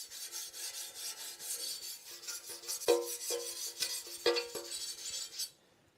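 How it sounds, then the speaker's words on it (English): A scratch pad rubs across a primered Lambretta mid-range fuel tank in quick rhythmic rasping strokes, close and fairly faint, with a few light knocks before it stops. "What I use is M3 scratch pad, and just give it a gentle rub."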